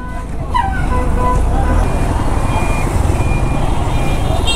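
Jammed road traffic with vehicles close by: a loud mix of idling and revving engines, a run of reversing beeps and short horn toots, all steady and dense throughout.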